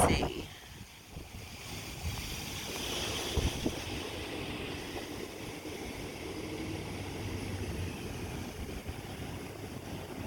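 Gusty Santa Ana high winds blowing outdoors in cold California weather, a steady broadband roar and buffeting that rises and swells throughout without letting up.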